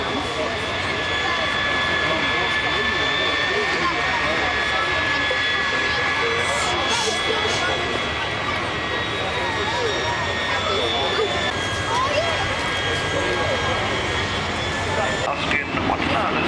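A RAAF AP-3C Orion's turboprop engines roar continuously at an air show display, loud and sustained as the aircraft passes. A commentator talks over the engine noise.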